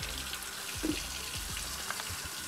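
Plastic parts of a Wagner Flexio 590 paint sprayer are rinsed under a running tap, with a steady close splash of water punctuated by irregular gurgles and knocks against the sink.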